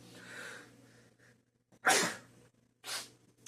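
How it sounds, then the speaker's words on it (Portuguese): Two sharp sneezes, the first a loud burst and the second a shorter one about a second later, close to the mic in a quiet room. "Perdão, um espirrinho."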